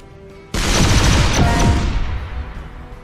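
The torpedoes weapon fires in the artillery game Shellshock Live, a sudden loud burst of rapid crackling, popping blasts that rolls on as a dense barrage and slowly tails off.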